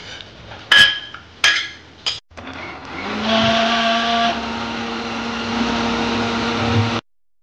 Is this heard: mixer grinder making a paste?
yes